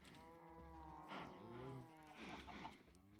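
Cattle out in a field low drawn-out mooing, several overlapping bellows in a row, heard faintly at a distance over a steady outdoor background.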